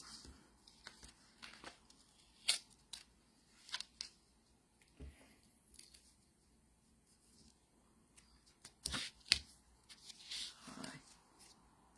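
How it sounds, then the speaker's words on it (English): Scissors snip away excess material on a handmade holiday ornament with a light, a series of short, quiet close cuts spread irregularly over the stretch, with soft handling noises between them. "I'm gonna cut the excess right here."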